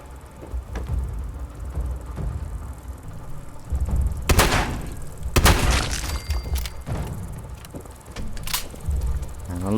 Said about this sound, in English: I love the shotguns in this.